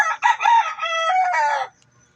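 Rooster crowing up close, one loud drawn-out cock-a-doodle-doo with a clucking onset, clear and alone against a quiet background.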